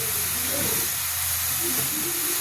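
Cabbage tipped into a hot pan with turmeric and chillies, giving a loud continuous steamy hiss and sizzle that stays even and close for the whole moment, with no talking.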